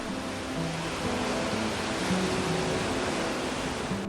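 Rough sea waves wash against an island coast at Samdal-ri on Jeju, where women divers work. The surf makes a steady, continuous, fairly faint rushing noise with no voices.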